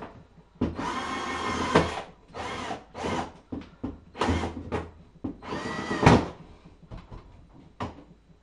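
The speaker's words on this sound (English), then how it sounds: "so I have my hole drilled here, and continued it on the inside." A power drill bores a hole through the side of a beer fridge in several bursts of whirring, stopping and starting close by with short pauses and knocks between runs.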